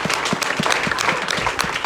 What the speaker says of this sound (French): Acclame pour les femmes.